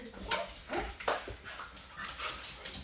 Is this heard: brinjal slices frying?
no